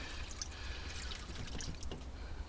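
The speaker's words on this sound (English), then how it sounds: "I need to put some water in the bottom of that." Water being poured into the water pan at the bottom of a smoker during a turkey-smoking demonstration, a steady close trickle and splash with small drips, alone without talk.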